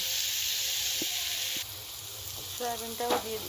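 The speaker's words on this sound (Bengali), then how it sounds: "ডালটা ভেজে নেওয়ার পরে আমি সবজিগুলো ভেজে নেব" Vegetables fry in hot oil in a pan, seasoned with salt and turmeric: a steady, close sizzling hiss with a few soft knocks from stirring and a brief voice near the end.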